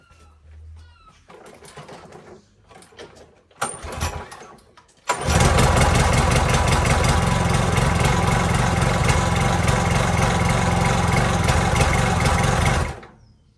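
A Toro Recycler lawn mower engine, the good one of two, sputters through a few faint attempts, then catches and runs loud and steady for about eight seconds before cutting off abruptly.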